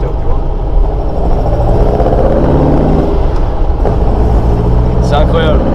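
A 1960 Volkswagen Beetle cruising at about 90 km/h on the motorway, its engine drone and road roar loud, dense and continuous throughout.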